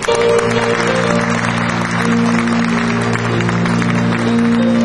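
An audience claps together at a 2004 university entrance ceremony. The applause is loud and continuous throughout, with no voices over it.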